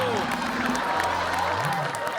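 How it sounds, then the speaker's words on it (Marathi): Audience applause on a Marathi comedy show after a prize announcement, a steady wash of crowd clapping under a voice and background music. "टाळ्या"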